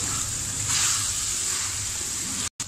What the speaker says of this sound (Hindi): गोश्त को अच्छे से मिक्स कर लिया हमने, अब हम इसमें 4 टेबल स्पून दही डाल देते हैं।